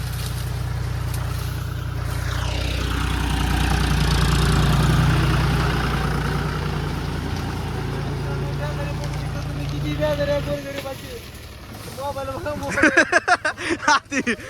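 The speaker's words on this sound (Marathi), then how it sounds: "ट्रॅक्टर लोड करायचं लवकर आण" A tractor engine idles with a steady, low rumbling drone that fades out near the end, followed by scattered clatter, while people talk nearby.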